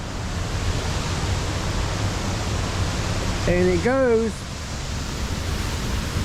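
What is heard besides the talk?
creek water rushing near mill ruins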